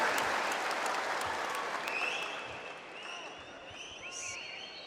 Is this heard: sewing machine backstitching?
no